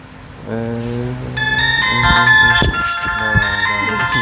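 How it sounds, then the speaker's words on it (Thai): A telephone ringtone rings loud and close, a steady run of bright electronic melody tones that swell in layers and keep sounding throughout, with no talk over it. "โทรศัพท์"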